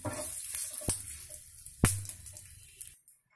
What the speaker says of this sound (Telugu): పోపు వేసాను